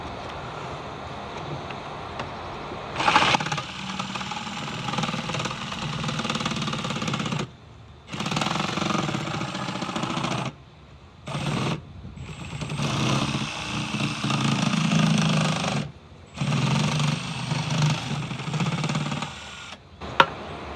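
A drill boring a hole for PVC pipe in a plastic bucket, loud close grinding bursts lasting several seconds each, stopping and restarting with short pauses between.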